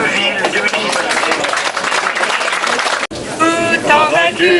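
An audience applauds two towns at a 2008 conference with a loud, dense burst of clapping and cheering that cuts off abruptly midway. Voices and singing follow the cut.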